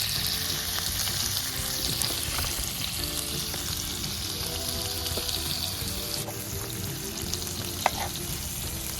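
Nigella seeds dropped into hot mustard oil in a kadai, sizzling and crackling steadily up close, a dense continuous fry with faint stirring throughout and no talking.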